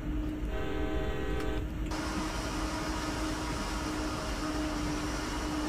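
A slow CSX heavy-haul coal train in the Train Sim World game gives off a steady, loud low rumble and engine drone, with a brief higher tonal whine near the start.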